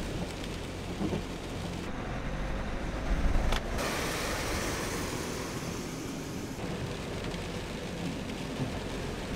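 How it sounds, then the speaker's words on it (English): Heavy rain drums on a camper van parked at a glacier hike base camp in Norway, a dense, steady wash of close patter with a deeper rumble briefly swelling midway. "The rain has got somehow even worse"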